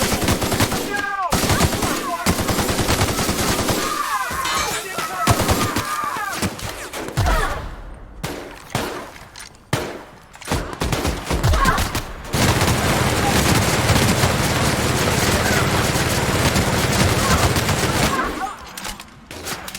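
Gunfire in The Outer Worlds video game, with bursts of rapid shots, pauses, then a long sustained stretch of dense firing and booms.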